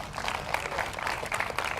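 Church congregation clapping in praise during a sermon, a dense, steady patter of many hands filling the room for a couple of seconds.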